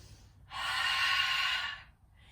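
Ujjayi breathing done with the mouth open during a morning yoga session: a single throaty, ocean-like exhale lasting just over a second, close and clear against quiet.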